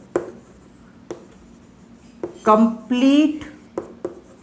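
Marker or chalk writing on a board during a geometry lesson on angles, short scratchy strokes tapping and rubbing close by, with someone speaking briefly in the middle.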